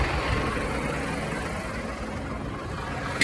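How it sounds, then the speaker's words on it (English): A tractor engine idling outdoors on a rural property, a steady low rumble that holds evenly and close without any other sounds. "hang on, tractor's on."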